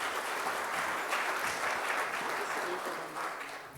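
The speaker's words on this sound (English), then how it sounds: "Big round of applause for him." Steady applause from a seminar audience for a speaker fills the space, sustained and even, tapering slightly at the end.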